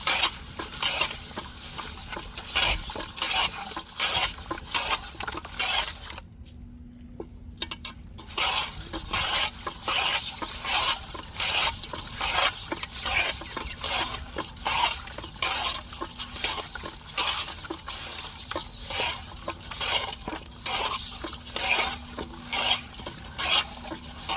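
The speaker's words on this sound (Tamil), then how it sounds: "உப்புக்கல்லை போட்டு நல்லா உரசி கழுவி எடுத்துக்கிடுவோம்" Cut pieces of fish rubbed with rock salt while being washed, a continuous gritty scraping and clinking in quick repeated strokes, close and steady, with only a brief pause partway through.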